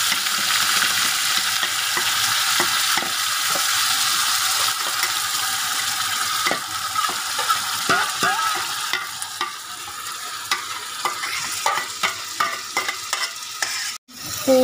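Grated onion hitting hot oil with cumin seeds in a pan, giving a loud steady sizzle with repeated spatula scrapes and clicks that grow more frequent, then a sharp knock near the end.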